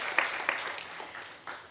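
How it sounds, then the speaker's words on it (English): An audience gives a speaker a hearty round of applause, a brief, fairly faint patter of scattered claps at a virtual or remote event, with a few sharper hand claps standing out. "Can we please give a hearty clap to David?"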